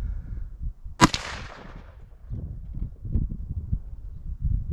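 .357 Magnum revolver shot fired over a chronograph outdoors, a single loud, sharp crack with a short ringing decay, followed by low rumbling background noise.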